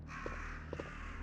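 A few short, rasping crow caws in a Resident Evil game, close together and set against a steady low rumbling ambient drone.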